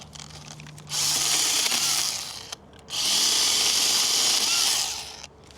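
A small one-handed chainsaw cutting wood roars at full throttle, cuts out briefly, then revs hard again for a few seconds before dropping back to idle.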